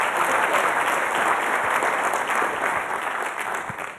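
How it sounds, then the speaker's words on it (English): Sustained audience applause filling a keynote hall at a BMC Exchange event in New York City, steady dense clapping from a large crowd that tapers slightly toward the end, with no talking over it. "Please give them a warm round of applause."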